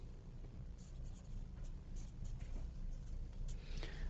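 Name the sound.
drawing a circuit diagram on a board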